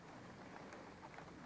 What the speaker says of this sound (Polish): u mnie dzisiaj deszcz leje.